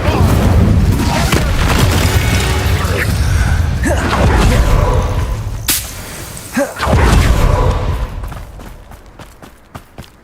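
Casting Incendio in Hogwarts Legacy sets off whooshing, booming fire bursts layered with combat effects and a sharp crack midway. Voices mingle with the loud, busy game sound before it fades out.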